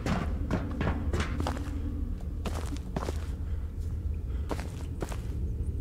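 Footsteps in a large cave in the Siren Head: Resurrection video game, a quick run of soft scuffing steps over steady low background noise.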